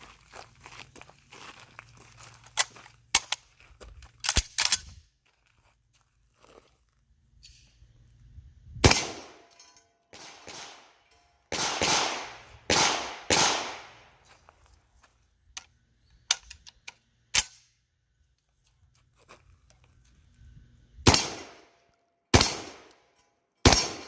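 A Citadel Boss-25 AR-style 12 gauge shotgun fires sharp, loud blasts, singly and in quick pairs, with quiet pauses and handling clicks between them.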